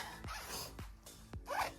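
Zipper on the pocket of comfortable travel pants, pulled in three quick, close strokes, each a sharp rasping zip with light rubbing of fabric between them.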